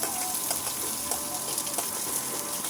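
Chopped medium onion frying in a pan, a close, steady hiss and sizzle with faint crackles and occasional stirring scrapes, heard alone.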